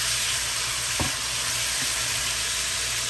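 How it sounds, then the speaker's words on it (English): Chicken, peppers, onions and mushrooms stir-frying in a wok over the highest heat, a loud continuous sizzle with a brief scrape of the utensil near the start, close up and with no talking. "And continue to just stir it, you know, with a wok."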